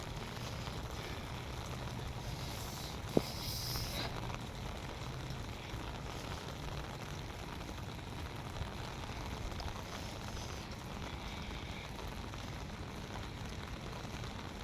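Steady rain falls in Kuwait, a constant even hiss of drops on surfaces throughout with no strong individual impacts, fairly quiet and continuous.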